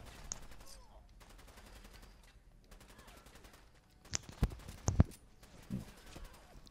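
Gunfire in Fallout 4 comes as a few sharp, fairly faint shots clustered near the end, over a quiet game background with soft tonal music.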